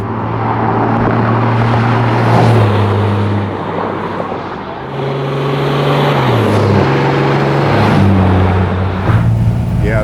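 A Cummins turbo diesel swapped into a 1978 Squarebody dually pickup drones steadily and loudly up close, its low rumble rising and falling in pitch as the revs shift, with no talk over it.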